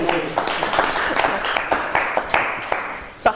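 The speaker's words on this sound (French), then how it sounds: "Allez, par charité, on applaudit ça" Scattered clapping from people seated around a dinner table in Chambéry, a dense patter of hands lasting a few seconds with voices mixed in.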